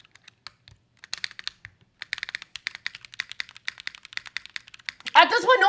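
Rapid clicking of computer keyboard keys on a neon-lit keyboard, quick uneven bursts of typing close by, ending as someone starts speaking.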